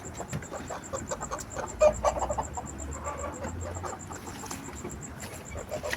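Chickens and a rooster clucking steadily on a farm where chickens and ducks graze on grass, with repeated close calls, one louder squawk and faint background noise.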